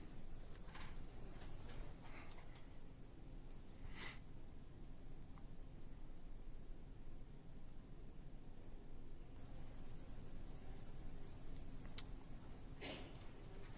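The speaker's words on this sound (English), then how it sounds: "I'm going to fill in all the rest of those white boxes with my green colored pencil." A green colored pencil scratches steadily across paper as someone fills in small white boxes, a soft continuous rasping with a few brief louder strokes, close and alone.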